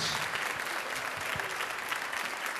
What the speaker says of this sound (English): Give them all a big round of applause for the sheep